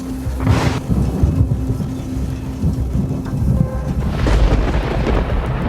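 A thunderstorm sound effect: a steady low rumble of thunder and rain-like noise that swells near the start and again toward the end, continuous and fairly loud with no voices.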